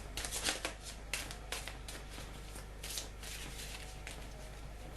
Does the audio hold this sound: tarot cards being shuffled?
yes